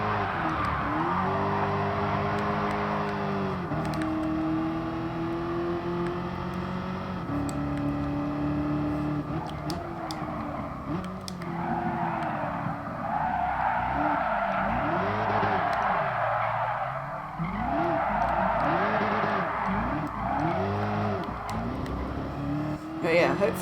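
A police car drifts in Gran Turismo Sport, its tyres squealing in long wavering screeches over a steady engine roar. The skids rise and fall repeatedly, close and loud, with a voice talking over them.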